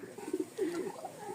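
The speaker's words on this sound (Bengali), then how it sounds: "অনেক কবুতর আছে আলহামদুলিল্লাহ" Pigeons at a home loft give a few soft, low coos, fairly faint and close together, with no other sound competing.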